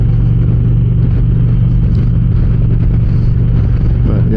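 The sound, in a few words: Indian Challenger Dark Horse motorcycle engine with stock exhaust pipes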